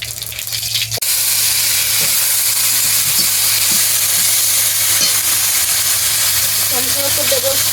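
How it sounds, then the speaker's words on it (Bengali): Whole cumin seeds and torn bay leaves sizzle loudly in hot mustard oil in a wok, a steady close frying hiss that starts abruptly and continues with occasional stirring clinks. "এবার বাঁধাকপি সম্বরা দেওয়ার জন্য আমি কড়াইতে দিয়ে দিচ্ছি সর্ষের তেল ফোড়নে দেব জিরে গোটা জিরে দুটো তেজপাতা ছিঁড়ে দিয়েছি"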